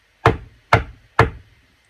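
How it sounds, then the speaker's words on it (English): Three firm knocks on a door, evenly spaced and close, each a sharp wooden rap with a brief ring-off, heard alone against silence. "somebody knocked on the door"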